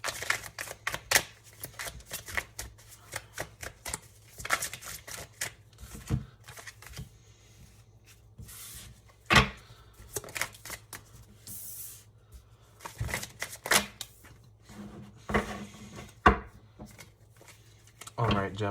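Tarot cards being shuffled by hand in repeated brisk riffling and tapping bursts, close and fairly quiet, with brief pauses between.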